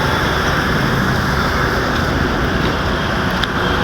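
Household sewage wastewater pouring into a lake, heard as a loud, continuous rushing wash of water with no break, close to the microphone.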